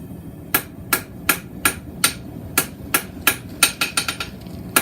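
Hammer blows strike a steel bar being re-squared while forging a Lowcountry oyster shucker, about fifteen sharp, ringing hits that start spaced and quicken into a faster run near the end, close and loud with no talking.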